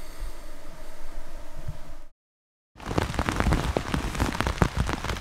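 Heavy rain pours down steadily during a solo overnight fishing trip, a dense loud hiss broken by a short silent gap before resuming even stronger.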